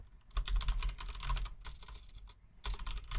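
Rapid typing on a computer keyboard, with dense clicking keystrokes in quick bursts and a few short pauses, close and clear without any talk.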